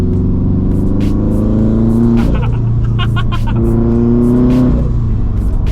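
A turbocharged Subaru BRZ engine revs hard twice, the pitch climbing and dropping, with turbo hiss and whoosh between revs, loud and close.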